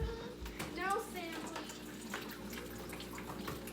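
Water drains from an aquarium through a hose into a bucket, making a steady watery trickle and splash under background noise, with voices talking nearby.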